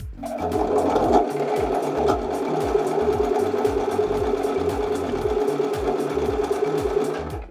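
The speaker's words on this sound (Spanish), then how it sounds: "ya enhebré de nuevo y ahora sí voy a hacer mi costura" A sewing machine runs steadily, stitching a straight seam in a basic sewing lesson, its motor hum and rapid needle strokes continuous and close for the whole stretch with no talk.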